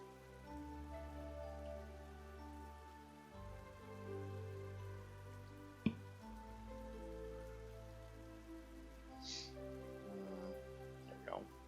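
Steady soft rain patters throughout in the Mask of Mists game, a continuous even hiss under a low droning music bed, with one sharp click partway through.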